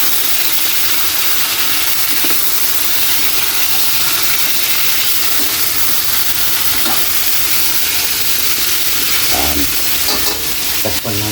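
Pork hock (pata) frying in a pan with garlic and onion, a loud continuous sizzle and hiss with soft scraping stirs recurring every couple of seconds.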